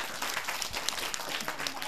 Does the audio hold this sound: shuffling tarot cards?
no